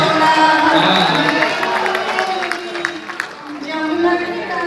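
An audience at a Dubai mushaira poetry recital applauds and cheers, a dense roar of clapping and crowd noise that swells and fades across the moment.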